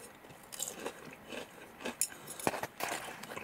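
Someone eating fried pork cutlet from a katsudon bowl, with soft close crunching bites and chewing plus faint clinks, quiet and without talk.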